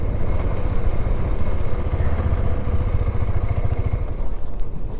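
A motorcycle engine runs steadily close by at a remote mountain spot in Rangdum, a continuous low rumble with slight clatter and no speech.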